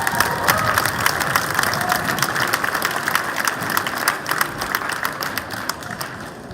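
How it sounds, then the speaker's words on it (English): School audience at a year-end awards ceremony applauding and cheering, sustained loud clapping with scattered shouts and crowd noise throughout, slightly easing toward the end. "a big round of applause for Miss Luff."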